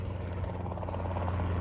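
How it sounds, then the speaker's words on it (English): A Robinson R22 helicopter arrives at an airfield fly-in, its rotor making a steady, low, thudding drone at moderate distance, with no talk over it. "And there's Andrew Silver coming in his R22"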